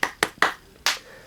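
Four crisp hand claps, close and loud, the first three quickly spaced and the last after a short pause.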